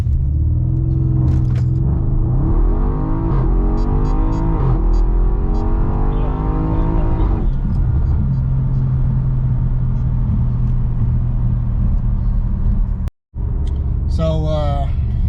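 Audi RS7 accelerating hard on a road in Mexico, a loud rising engine roar through gear changes for about seven seconds, then a steadier rumble, with a voice talking over parts of it.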